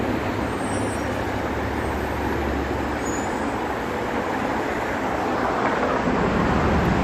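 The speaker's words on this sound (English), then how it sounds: "There's a lot of traffic going on." Busy street traffic rumbles steadily close by, with buses, cars and trucks passing in a continuous dense wash of road noise and a brief air-brake hiss, no voices.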